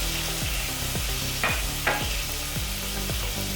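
Onions sautéing in a pan for spinach rice crackle in a continuous sizzle, with a regular rhythm of stirring strokes and a couple of sharper scrapes of the spoon against the metal.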